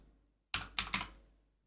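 Three quick keystrokes on a computer keyboard, close and faint, a short burst of clicks alone in an otherwise quiet room.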